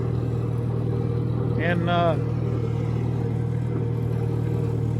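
An IH McCormick Farmall 350 tractor engine idles with a steady low rumble throughout, while someone speaks briefly over it.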